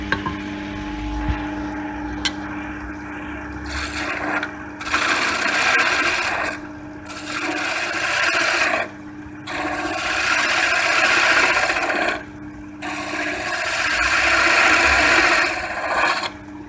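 A wooden block is shaped on a lathe with a profiling tool, giving repeated bursts of rough scraping and rasping that alternate with short pauses, loud and close, over a steady machine hum.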